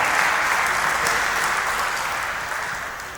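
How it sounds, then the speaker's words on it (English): An audience at a Nigerian Bar Association summit opening ceremony in Abuja applauds the event chairman with steady, dense clapping that fades slightly toward the end. "Please put your hands together for him until he gets here"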